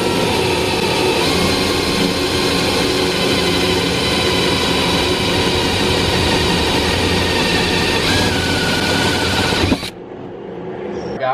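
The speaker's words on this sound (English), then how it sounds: "what we've done now is drilled the two holes that we need for to actually mount the bracket itself" Electric drill boring holes through the body of an MK4 Toyota Supra for a battery bracket, a loud, steady high-pitched whine running continuously for about ten seconds before stopping abruptly.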